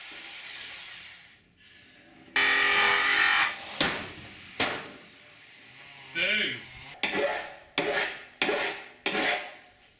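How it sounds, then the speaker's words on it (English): Rough rasping strokes scrape along the freshly cut metal edge of a van body panel, deburring it, in repeated bursts, close and fairly loud, with short pauses between strokes. "I'm just deburring the edges like I did with the roof light, smooth them up"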